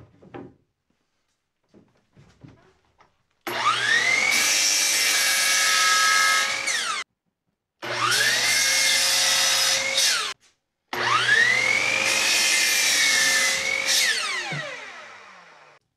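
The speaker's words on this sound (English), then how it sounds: "so what I'm doing with the hand plane is I'm just taking down the edges that will make it sit flat." A hand plane takes down the edges of a slightly twisted wooden piece for a home-built band saw mill: three long, loud strokes, each roughly three seconds, with a scraping hiss and a faint squeal, separated by short pauses.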